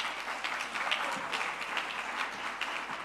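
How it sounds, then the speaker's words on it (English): An audience at a Future of Work dialogue conference applauds the speakers on stage, a steady, dense burst of many hands clapping heard from within the hall. "Can you please give them a proper round of applause?"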